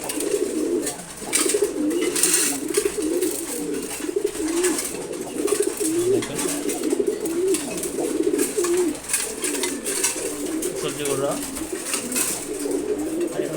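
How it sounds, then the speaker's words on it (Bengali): Chinese pigeons coo continuously, the repeated throaty calls overlapping close by, with a voice briefly speaking now and then. "হচ্ছে চীনা কবুতর"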